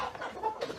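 Chickens cluck in a short burst of quick, scratchy calls, close and moderately loud with no talk over them.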